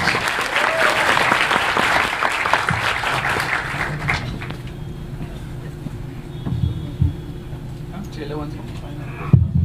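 An audience applauding at a film trailer event, loud dense clapping for about four seconds that fades out, followed by quieter room noise and a few voices.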